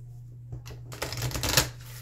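Oracle cards shuffled by hand, a short riffling burst that starts softly and builds into a dense rustle of card stock, close and alone with no talking.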